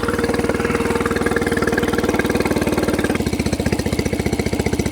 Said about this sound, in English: I want to restart the engine, see if we have any more leaks.